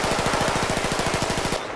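A WWII M1A1 Thompson submachine gun fires in Battlefield Bad Company 2 as one loud continuous burst of rapid, evenly spaced shots lasting about a second and a half, then stopping.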